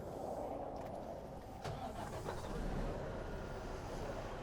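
Truck engine cranking and starting during a mock roadside inspection, a steady loud diesel rumble filling the whole stretch with a brief catch near the middle, no voices over it.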